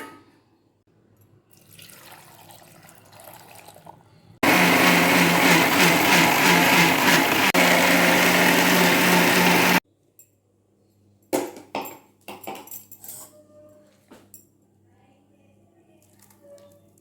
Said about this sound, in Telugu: మిక్సీలో వేసి నీళ్ళు పోసి జ్యూస్ చేస్తున్నాను